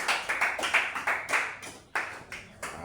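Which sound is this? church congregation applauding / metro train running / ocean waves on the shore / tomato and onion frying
church congregation applauding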